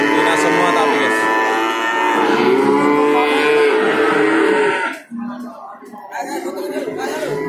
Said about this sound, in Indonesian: Kita cari sapi-sapi Jawa. Di sebelah sini ada sapi-sapi Jawa.